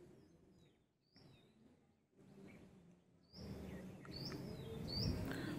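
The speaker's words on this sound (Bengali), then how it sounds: "দেখুন পাখি ডাকছে।" Birds call outdoors in a village under a clear sky near a mango tree, giving faint, scattered chirps over quiet background noise.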